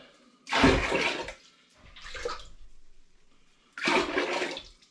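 Water being emptied out of a large pan while making rhubarb and ginger cider, heard as three separate gushing pours with short quiet gaps between them, close and fairly loud, no talking.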